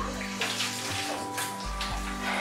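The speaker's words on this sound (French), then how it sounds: "rincer ma spatule." A spatula being rinsed under a running tap, a continuous steady splash of water with a faint low hum beneath it, close and fairly loud throughout.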